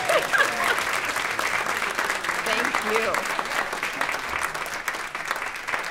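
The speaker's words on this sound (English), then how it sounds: "Clap for her." Dense, continuous applause from an event audience at a talk with two guests, steady and fairly loud, with a brief spoken thanks over it and scattered voices in the crowd.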